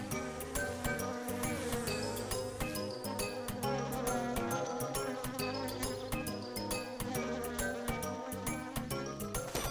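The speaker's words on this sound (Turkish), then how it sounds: "Bir grup arı geliyor." A swarm of bees buzzes over a sunflower field in a children's show, a dense and continuous droning hum that stays loud and close throughout.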